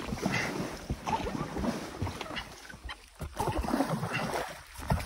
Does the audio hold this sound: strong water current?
yes